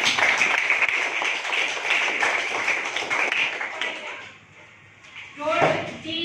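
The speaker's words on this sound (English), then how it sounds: "Clap for it." Students in a classroom quiz competition clap, a dense burst of applause for several seconds that fades, followed by quieter room noise and a voice.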